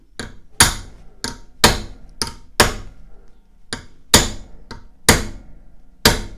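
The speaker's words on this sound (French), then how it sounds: "Donc on va utiliser le marteau." A hammer taps a MAFAC bicycle brake shoe holder clamped in a vise, giving about a dozen sharp metallic strikes in an uneven rhythm. Some blows land harder than others, each one close, with short ringing decays and quiet gaps between.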